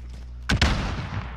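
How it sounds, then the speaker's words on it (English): A stun grenade detonating in a squad-based shooter, two sharp loud bangs in quick succession followed by a lingering rumble. "Stun grenade out."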